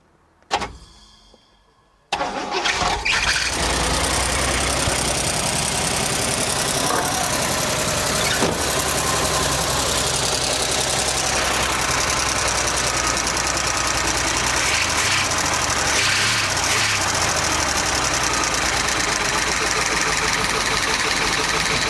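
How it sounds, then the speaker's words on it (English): A 1963 Cadillac limousine pulled from a junkyard cranks and fires, then settles into a loud, steady idle with a slightly uneven rumble, heard up close; a short quiet stretch precedes the start. "See if she can fire right over in the idle."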